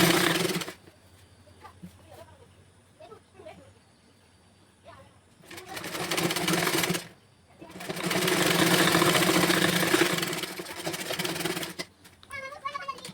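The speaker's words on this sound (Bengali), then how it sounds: "এখানে আমি ডবল সেলাই দিয়ে নিচ্ছি দুটি অংশ একইভাবে সেলাই করছি" A sewing machine double-stitches two pieces of a dress together, whirring in two close, sustained runs after a quieter stretch at the start that holds a few faint sounds.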